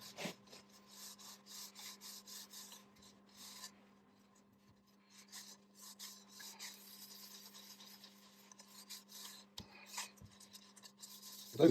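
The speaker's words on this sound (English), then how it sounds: "I'm going to wax it. I use Par's beeswax oil. It's linseed oil and beeswax" Beeswax and linseed oil finish being rubbed by hand onto a mango wood tray, giving soft, steady rasping strokes at close range with a faint hum underneath and no talking.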